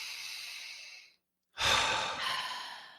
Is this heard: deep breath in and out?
yes